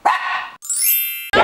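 A dog gives a couple of loud, close barks, split by a short high tonal squeal, all in about a second and a half.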